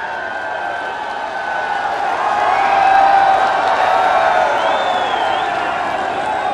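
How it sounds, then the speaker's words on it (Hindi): A large crowd at a foundation stone laying ceremony in Varanasi with the Prime Minister cheers and claps, a sustained roar that swells midway with whistles and shouts threaded through it. "आप सबकी जोरदार तालियों के साथ"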